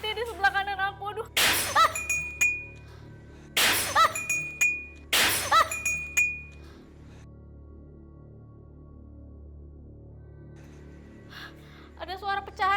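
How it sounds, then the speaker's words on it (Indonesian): Glass crashes and shatters somewhere above and to the left during a night ghost-hunting dare, three loud smashing bursts a couple of seconds apart with lingering ringing, between stretches of people talking. "Ada suara pecahan kaca dari atas sebelah kiri."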